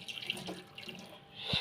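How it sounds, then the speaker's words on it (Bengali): Hot water runs from a kitchen tap and pours over chicken to thaw it, a soft, continuous splashing trickle heard fairly faintly, with no voices. "তাড়াতাড়ি নর্মাল হওয়ার জন্য গরম পানি দিয়ে দিতেছি যাতে মুরগিটা তাড়াতাড়ি নর্মাল"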